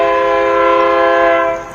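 A train horn blares from nearby railroad tracks in one long, loud, sustained blast that fades slightly at the end.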